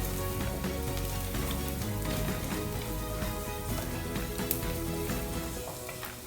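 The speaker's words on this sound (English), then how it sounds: "Give this a good stir." Bottle gourd with turmeric and red chili powder sizzles and fries steadily in a pan, a close, dense crackling hiss with faint stirring scrapes underneath, and no voice.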